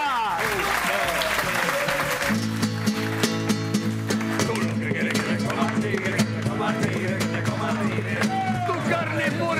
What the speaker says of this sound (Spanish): Un aplauso para vosotros.